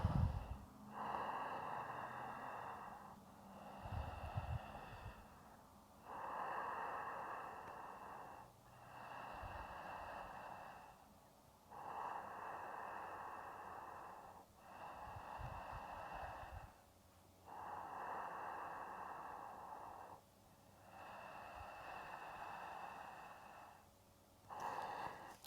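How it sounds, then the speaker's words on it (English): Slow, deep breathing during a yoga stretch for lower leg tension: close, quiet breaths rise and fall about every three and a half seconds, with roughly seven even cycles and no talking. "And then 5 breaths here too."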